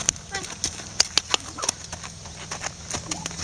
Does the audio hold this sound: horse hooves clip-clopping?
yes